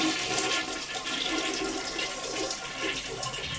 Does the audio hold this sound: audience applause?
no